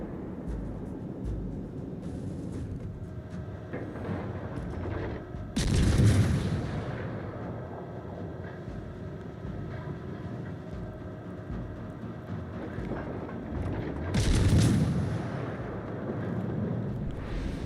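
Heavy gunfire in the space video game Starfield: two big booming blasts several seconds apart over a low rumbling background, with quieter crackling between.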